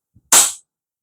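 AWC Infinity 7.0 airsoft gun firing a single loud, sharp pop with a brief hiss of release, preceded by a faint tiny click, then silence.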